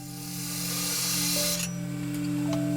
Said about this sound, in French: avec mon troncoir, en me tenant à une distance environ de 7 mm de mon trait que j'ai tracé, je vais commencer à défoncer une rainure